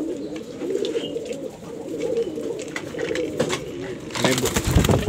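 Giringan pigeons at a bird market coo in low, repeated murmurs close by, with a burst of louder bird noise near the end and faint market background.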